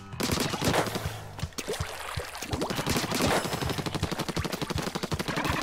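A Splatoon 2 shooter weapon fires in rapid, steady bursts. The dense, rhythmic volley of splattering ink shots stays loud and close, with a brief pause partway through.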